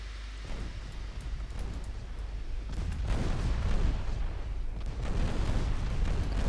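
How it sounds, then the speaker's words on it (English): Naval gunfire in the warship game Ultimate Admiral Dreadnoughts, with shells striking a ship: a steady wash of deep booms and rumbling impacts, growing denser and louder in the second half, with no voices over it. "Jajulu is taking a lot of gun hits"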